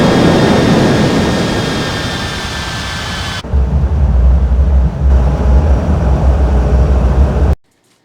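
Loud, steady engine roar and rushing air from a simulated airplane on landing approach in a flight simulator game, shifting abruptly to a deeper rumbling drone before cutting out suddenly near the end.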